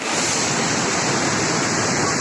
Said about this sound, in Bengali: জলের যে আওয়াজ, সামনাসামনি দেখলে ভয় লাগছে।